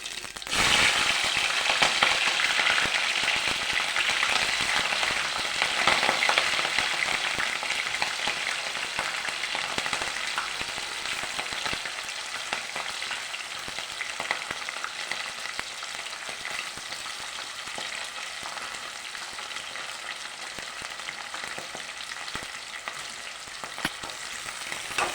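Green chillies and seasoning seeds frying in hot oil for an Andhra-style curry, giving a steady, loud sizzle that fades slightly over time, with occasional crackles and stirring.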